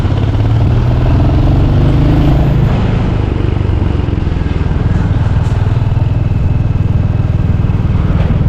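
An Aavin milk delivery vehicle passes on the Dhimbam mountain road between Bannari and Hasanur, its mid-pitched engine rumbling loud and steady alongside other traffic noise, no talk.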